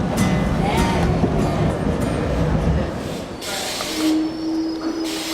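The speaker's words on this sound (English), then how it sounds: "I've always enjoyed my trips on the New York City subway." A New York City subway train rumbles loudly and steadily throughout, with a brief high tonal squeal rising near the end.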